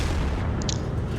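A tank gun fires in a T803 video game battle, a single short boom over a dense, loud low rumble of combat noise.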